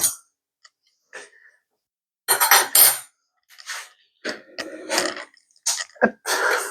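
Croque monsieur ingredients stirred in a bowl, with intermittent scraping and clinking of a utensil against the dish in short irregular bursts separated by silence, plus a soft breath or cough.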